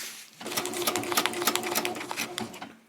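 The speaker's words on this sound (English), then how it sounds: "you do want the fabric to simply walk through the sewing machine" A sewing machine runs steadily at close range, its rapid mechanical stitching rattling continuously for a few seconds after a brief quiet start.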